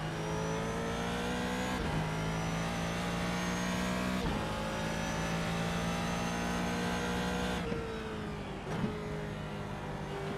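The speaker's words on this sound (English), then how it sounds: "Honestly, the car sounds so good in TV camera. Just a proper old school V8." An old school V8 race car engine in the iRacing video game during a GT endurance race at Barber, heard from a trackside TV camera: loud, droning revs that rise and fall through gear changes as the car passes.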